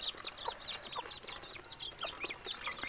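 Several chickens cluck and chatter close by in quick, overlapping bursts with no voices.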